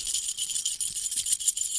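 Metal waterfowl leg bands on a lanyard jangle continuously close by, a bright, rapid rattling of small metal pieces lasting under two seconds.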